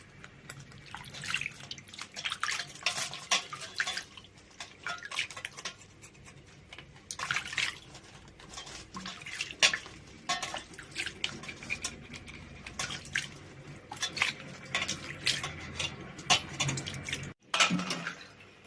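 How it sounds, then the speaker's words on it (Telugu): Shelled crabs rinsed in fresh water in a kitchen: irregular splashes, drips and sloshing at close range, in bursts that come and go over a quiet background. "ఒలుసుకున్న పీతలు ఇక నీట్గా కడిగేసుకుంటానండి ఇక మంచినీళ్ళతో రెండు మూడు సార్లు కడిగేసేస్తే"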